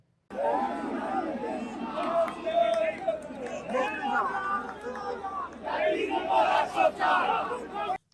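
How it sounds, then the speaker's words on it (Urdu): A crowd of protesters chants slogans outside the Lahore High Court, many voices shouting together in loud, rhythmic bursts with steady crowd noise underneath throughout. "یہ ذرا نعرے سن لیں"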